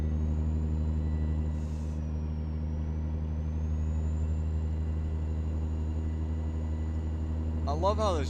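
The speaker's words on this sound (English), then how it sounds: "I love how this Jake brake sounds though." A heavy truck's engine brake rumbles as a deep, steady, droning growl with strong low harmonics, sustained and close in American Truck Simulator, with a brief rising whine near the end.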